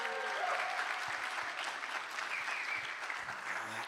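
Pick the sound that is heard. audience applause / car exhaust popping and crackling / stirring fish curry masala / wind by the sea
audience applause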